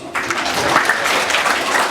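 Children at an elementary school assembly applaud student volunteers, a loud, full burst of clapping that begins sharply and holds steady in a large room.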